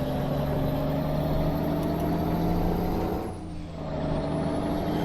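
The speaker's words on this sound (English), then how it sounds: "So this is my foot flat to the floor. This is my acceleration." A 310HP Iveco truck in Euro Truck Simulator 2 pulls a 95-ton load in fourth gear at full throttle, its engine a steady, heavy drone that dips briefly before resuming, loud and alone.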